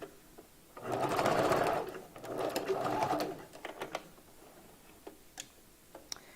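A sewing machine stitching a 5x5 raw Indian lace closure onto a bob wig runs in two short, close bursts of fast rattling stitches, followed by scattered clicks and ticks as the work is adjusted.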